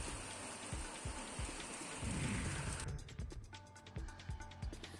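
Unseasonable rain falls hard and steady at night in Ratnagiri district villages while a low rumble of thunder rolls through midway before the downpour continues.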